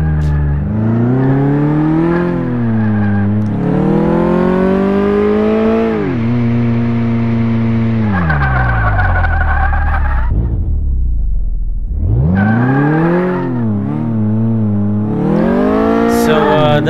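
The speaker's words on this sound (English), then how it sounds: "I'm not too happy by the sound of the engine." A car engine in Car Mechanic Simulator 2018 revs repeatedly, loud and close, with the pitch climbing and falling through several gear-like sweeps, a drop to idle, then another climb, with no other sounds.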